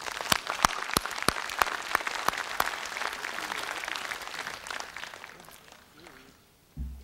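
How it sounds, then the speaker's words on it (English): Applause from an audience at a college's annual convocation ceremony, a steady crowd of clapping with sharp close hand claps up front that fades out near the end. "Please give them a round of applause."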